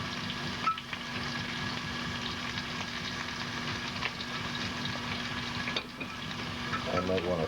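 Shrimp frying in a hot pan give a steady, close crackling sizzle that lasts throughout, with faint kitchen clinks near the end.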